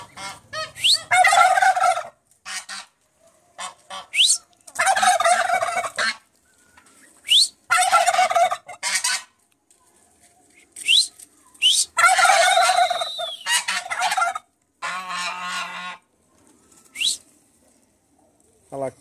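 Six-month-old turkeys gobble in repeated loud bursts at close range, several birds calling in turn with short quiet gaps between the rattling calls.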